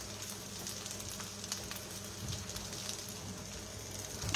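Food fries in a pan over a medium flame in a kitchen, a faint, even sizzle and crackle running steadily throughout with no talking.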